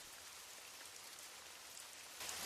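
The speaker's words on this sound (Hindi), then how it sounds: "बाहर बहुत बारिश हो रही है" Heavy rain pours outside, a steady, dense hiss of drops drumming on surfaces, soft and even throughout with a slight swell near the end and no voices.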